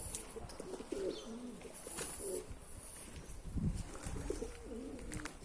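Soft, repeated pigeon coos rise and fall inside a coop amid a low, steady background rustle, with occasional light chirps nearby.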